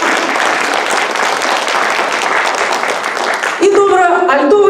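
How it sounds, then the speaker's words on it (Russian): A concert audience at a community house of culture applauds, a dense, loud wash of clapping from many hands that fades as a voice begins speaking at the end. "Еще раз аплодисменты ему."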